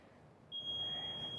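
A workout interval timer gives one steady, high-pitched electronic beep that starts partway in and holds to the end, over a soft background hiss.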